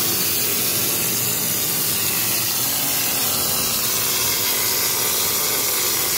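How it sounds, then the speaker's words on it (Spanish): A pneumatic hopper sprays coating onto the walls of a pool being restored, a loud, steady, broadband hiss of compressed air and spray that runs unbroken throughout, with no talk. "La tolva neumática lo que permite es hacer una carga pareja y después se facilita mucho el acabado."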